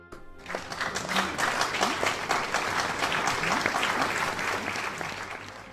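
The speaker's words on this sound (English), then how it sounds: "Let's have a brief round of applause for that." Applause from a sizeable audience swells quickly and holds as a dense, steady clatter of clapping, easing off slightly at the end.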